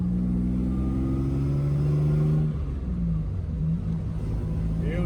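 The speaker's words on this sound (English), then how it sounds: "rev the engine" A Jaguar engine revs hard after a double-declutch in third gear, a loud steady harmonic drone that drops and settles into a lower hum partway through, heard from inside the car.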